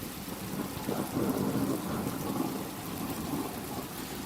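A violent thunderstorm rumbles with deep rolling thunder over heavy, steady rain, the low booms swelling and fading beneath the constant hiss of the downpour.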